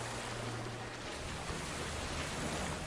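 Waterfall crashing down onto rocks in a video game, a continuous dense wash of falling water with a faint low hum underneath, steady and unbroken.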